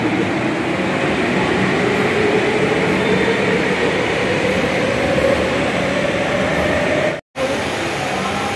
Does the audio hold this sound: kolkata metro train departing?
yes